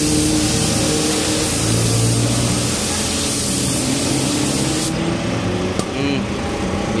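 A spray gun hisses steadily while spraying paint during a DIY car repaint, close and loud as a continuous broadband rush, ending with a brief shift near the end; people talk over it.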